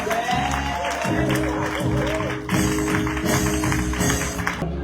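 A church congregation applauds during a worship service, steady clapping mixed with voices and musical accompaniment, sustained and fairly full throughout.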